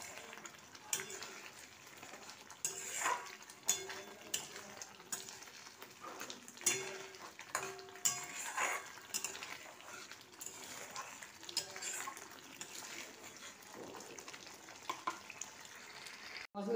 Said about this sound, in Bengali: যতক্ষণ না তেল ছাড়ে আমি এটাকে হাই ফ্লেমে দিয়েছি, নাড়তে থাকবো।